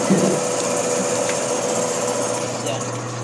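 A machine grinds with a steady, unbroken mechanical hum and whine, holding at an even level from start to finish.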